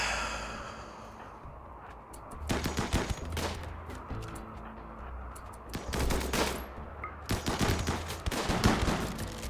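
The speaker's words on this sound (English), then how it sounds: "Assault rifle gunshot." Assault rifle gunfire in the RimWorld video game, three rapid bursts of dense cracking shots, loud and close, separated by brief pauses over a low rumbling background.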